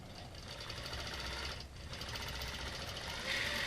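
A quilting machine stitches fabric edge to edge in stitch-regulated mode at about 11 stitches per inch, a quiet, fast, steady mechanical whir with no talking.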